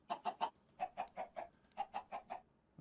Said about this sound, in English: whoops, chickens